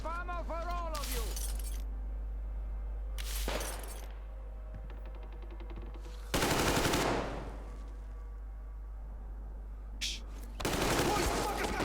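Automatic gunfire in Metro Exodus, Sam's Story: loud bursts of machine-gun fire, several sustained volleys with pauses between them. Shouted voices and talk come in and out around the shooting.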